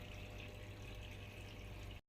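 Water rushing steadily into a washing machine drum during filling, a faint continuous hiss and gush that stops abruptly at the end.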